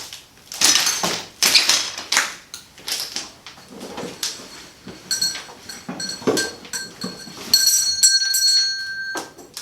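A hand bell rung during a nighttime spirit-communication session inside the old Thomas M. Cooley High School building, with a few bright, sustained metallic chimes ringing out among scattered knocks and clunks in a reverberant, otherwise quiet room.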